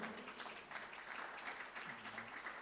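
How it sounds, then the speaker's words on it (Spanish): Audience applause at a climate change and tourism seminar, welcoming a panelist to the stage: a steady, dense wash of clapping from a hall, moderately distant and even throughout, with faint voices mixed in. "Un aplauso grande también para él."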